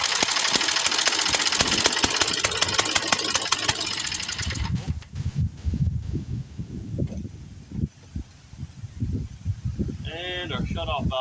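A 1969 Sears Craftsman snowblower engine that had sat unused for years, loud broadband roar for about four seconds, then sputtering, uneven running with rough knocking bursts; a voice speaks briefly near the end.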